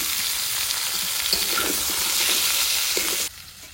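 Fried potatoes go into a pan of frying cauliflower, a steady close oil sizzle with scraping stirs that cuts off abruptly near the end.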